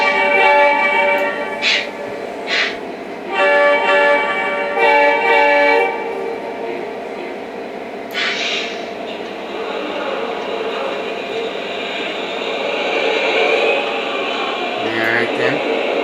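Lionel SD70ACE model locomotives start up with a loud, close horn sounding in several blasts, followed by sustained diesel engine rumble and hum.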